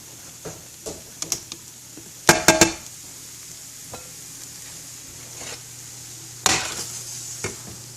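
A utensil stirs and scrapes hard-scrambled eggs in a pan for breakfast tacos, with light taps early on, two louder scraping bursts and faint sizzling in between.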